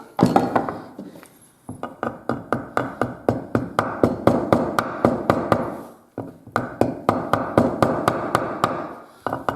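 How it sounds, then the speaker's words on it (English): Steady rapid tapping all over a piece of leather being worked on, dozens of sharp, close, evenly spaced taps in two runs with a brief pause between. "is give it a little tap everywhere"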